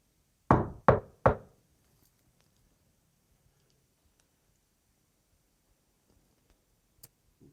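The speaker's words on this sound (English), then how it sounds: "Let's play a knocking game." Three sharp knocks in quick succession, loud and close, during a paranormal investigation at the Oliver House, followed by near silence with a faint click at the end.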